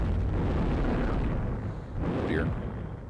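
A grenade blows up in a video game, a broad rumbling boom that fills the low end and rolls on, followed by a second swelling blast about two seconds in with a faint high whistle.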